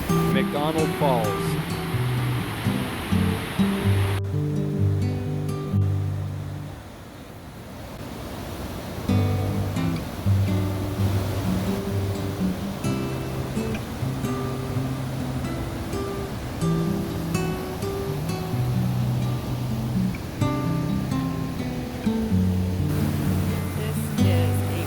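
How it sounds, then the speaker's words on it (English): Fast-moving river rapids near McDonald Falls in Glacier National Park make a loud, steady rushing roar. The sound dips briefly partway through, and someone talks over the water. "Fast moving water."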